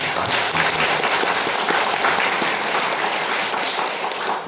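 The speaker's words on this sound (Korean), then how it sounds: "우리 집사님에게 뜨거운 사랑의 박수 한번 더 하겠습니다" A church congregation gives loud, sustained applause for a deaconess, a North Korean defector, after her testimony at the church's 88th anniversary service, a dense wash of clapping filling the room.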